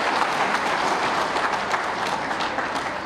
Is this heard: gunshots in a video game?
no